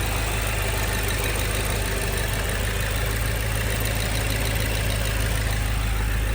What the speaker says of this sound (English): This sort of ticking noise